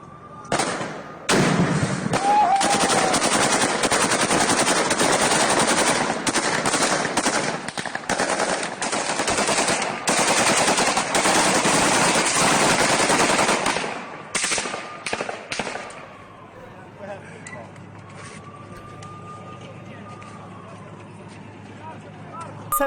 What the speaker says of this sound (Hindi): घरों पर गोलियां बरसाते दिखे यूक्रेनी सैनिक